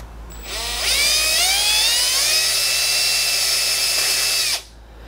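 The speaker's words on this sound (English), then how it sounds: "by going in with my 13 thou bit, I will expand that hole just a bit" A small high-pitched drill with a 13-thousandths bit whines steadily for about four seconds, drilling out a carburetor jet, its pitch rising as it spins up, then cuts off abruptly.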